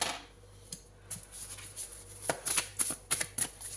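Tarot cards shuffled and handled close up, a soft papery riffle building into several quick crisp flicks and snaps near the end, fairly quiet with no voice.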